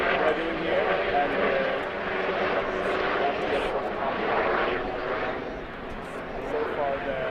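A helicopter flies overhead during a kayak blockade of an oil tanker, its steady rotor and engine roar filling the background beneath continuous talking.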